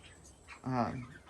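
Young Bielefelder chicks, hatched from ordered eggs and kept in a coop, give a short burst of peeping chirps that swells briefly and then fades against a low background hum.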